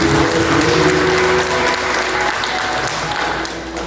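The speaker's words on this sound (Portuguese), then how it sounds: "Aplaudir ao Senhor." A church congregation claps loudly and continuously in dense, sustained applause that eases off slightly toward the end.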